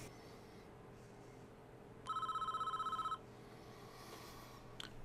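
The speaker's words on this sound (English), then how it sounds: "It's a phone call from the CEO telling us we have a tough situation." A telephone rings in Prison Architect, a single burst of electronic trilling lasting about a second against a quiet low hum, followed by a faint click.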